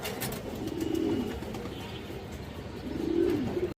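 Kaldom pigeons kept in a loft, giving two soft, low coos a couple of seconds apart, close by against quiet background noise.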